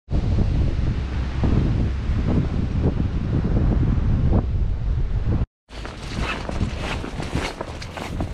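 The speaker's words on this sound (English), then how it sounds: "It's absolutely blowing a gale" Strong gale-force wind roars across a beach, buffeting the microphone in a loud, continuous blast with faint surf beneath and crunching footsteps, broken by a brief cut before the gusts resume.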